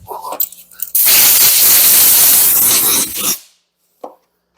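A loud, steady hiss of compressed air blows across Toyota Starlet engine valves for about two seconds, then cuts off, with brief shop noises before and after.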